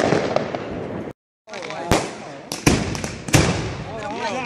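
Fireworks bang and crackle on New Year's Eve 2013-2014, with sharp loud bursts in quick succession, a brief gap of silence, and voices talking underneath the explosions.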